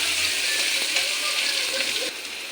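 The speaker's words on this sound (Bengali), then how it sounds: "ক্যাপসিকাম কেটে রেখেছি ওটাও দিয়ে দেবো এখন ভালো করে ভাজা করে নিই" Chopped capsicum fries in a pan for evening Maggi noodles, a dense close sizzle with light stirring scrapes that eases slightly toward the end, no talking.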